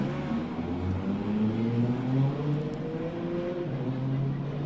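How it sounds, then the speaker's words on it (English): Nissan R35 GTR race car with a 3.8-litre six-cylinder engine pulling hard from a launch at a hillclimb, its engine note climbing steadily in pitch through the gears, loud and continuous with no talking. "From there, the acceleration of this car is immense"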